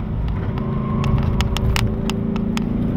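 A race car on a lap of Circuit Gilles Villeneuve, its engine droning steadily and loud as it brakes hard into the first chicane and rolls speed back in, with sharp clicks and knocks over the low rumble.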